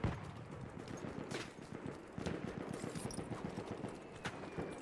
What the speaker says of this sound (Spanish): Siguen disparando desde ahí